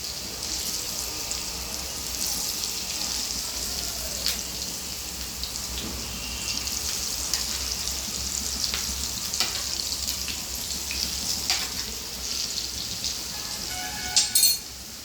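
Lentil balls for paruppu urundai kuzhambu fry in a pan with a continuous crackling sizzle. Occasional light clinks mark them being turned, with a few sharper taps at the very end, and no speech.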